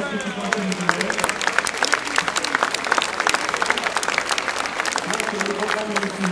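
Dense, loud applause from a crowd at the inauguration of the Tourcoing swimming pool, with many hands clapping continuously and unevenly throughout.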